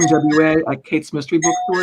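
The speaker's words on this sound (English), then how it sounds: "Sorry about that noise. That was their doorbell." A doorbell chimes faintly beneath a person talking steadily in a conversation, the ring thin and partly masked by the voice.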